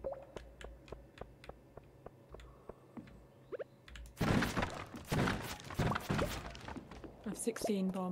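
Bombs go off in the Stardew Valley mines: a string of soft, evenly spaced game thunks is followed by a louder burst of blasts and clatter, with a person talking over the later part.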